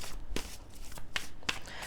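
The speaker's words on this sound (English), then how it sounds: "Shuffle with a little more intention here" Tarot cards being shuffled by hand in a few quick riffling bursts, close and crisp, against a soft background hiss.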